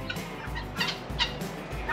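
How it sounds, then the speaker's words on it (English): A strange-looking bird at Hostel Mirador overlooking the Chapare River in Bolivia gives repeated low, throaty clucking or gobbling calls in a steady rhythm, close and fairly loud, with a few sharper higher notes mixed in. "Well, you're a weird looking bird."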